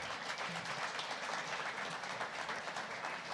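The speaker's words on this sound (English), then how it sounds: "how about a round of applause?" Applause at an evening pub talk for a keynote speaker, a faint, dense wash of clapping holding steady throughout, somewhat distant and muffled.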